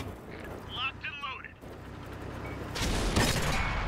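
Gunfire from a video game as the player shoots at the floor, a dense burst of loud rattling shots near the end following quieter game effects and warbling tones.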